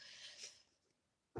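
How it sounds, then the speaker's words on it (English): A small dog gives a single quick, airy sneeze, faint and close, followed by a brief sharp noise at the end. "My grandpuppy just sneezed."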